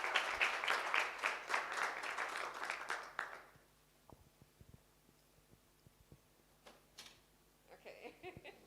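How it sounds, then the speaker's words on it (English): A conference audience at a TiE Women regional finals pitch competition claps in a burst for a contestant, fading out after about three seconds, followed by quiet room noise with scattered isolated claps and small sounds. "We'll have an extra round of applause for her"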